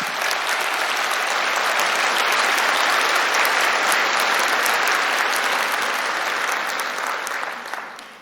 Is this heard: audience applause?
yes